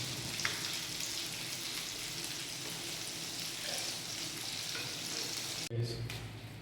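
Steady broadband sizzling of mackerel frying in hot oil, continuous and close, with a brief clunk near the end.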